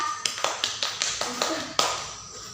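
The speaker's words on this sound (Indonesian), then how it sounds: "yang tepuk tangan dong buat Lisa" A small class applauds a student named Lisa with a handful of sharp, separate claps spaced out like a slow, uneven beat, close and fairly quiet.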